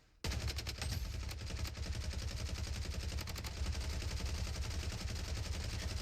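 Sustained rapid gunfire in the video game Blood Strike, a dense continuous burst of shots that starts abruptly and keeps going loud throughout.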